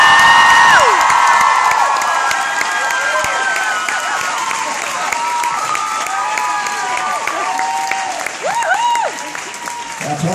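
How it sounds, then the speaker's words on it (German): A concert audience in Mannheim applauds and cheers steadily after a bassist is introduced, a dense continuous clatter of clapping with whoops and shouts rising above it, loud and sustained throughout, easing slightly toward the end. "Der Applaus ist berechtigt."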